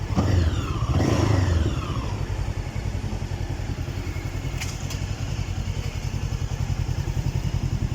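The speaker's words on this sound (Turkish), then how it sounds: "Boştaki kuru egzoz sesi." Close by, an RKS M502N 500cc motorcycle revs briefly at the start, then drops back to a steady, dry, rapidly pulsing exhaust idle.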